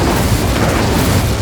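Confringo fire explosion spell in Hogwarts Legacy, heard as a dense, continuous roaring blast of broadband rumble and crackle, loud and steady throughout with no gaps.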